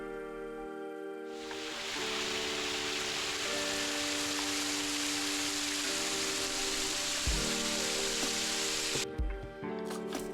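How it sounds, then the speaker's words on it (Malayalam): Steady rushing water noise from the Vellarimedu waterfall in Kollengode after continuous rain, a broad continuous roar, with a tonal hum underneath throughout; no talking. "രൗദ്രഭാവത്തിൽ നിന്ന് ശാന്തമായി ഒഴുകുന്ന വെള്ളച്ചാട്ടമാണ് ഇവിടെ കാണാൻ കഴിയുന്നത്"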